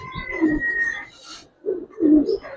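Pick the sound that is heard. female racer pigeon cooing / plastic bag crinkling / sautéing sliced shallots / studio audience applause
female racer pigeon cooing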